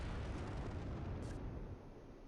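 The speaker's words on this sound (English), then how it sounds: "It's just the barrage." Artillery barrage explosions in the war game Close Combat III, a dense, continuous rumbling roar of overlapping blasts that stays loud throughout and eases slightly near the end.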